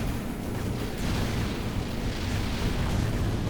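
Space-battle explosions from the game Gratuitous Space Battles roar as a dense, continuous rumbling blast that stays loud and even throughout, with no voices.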